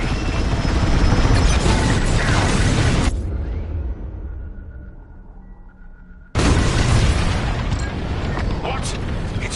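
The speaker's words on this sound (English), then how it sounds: "On my mark, it's bombs away." Bombs exploding on a bombing run in a Star Wars space combat video game, a loud sustained roar of blasts that cuts out into a quieter lull for a few seconds, then bursts back at full strength.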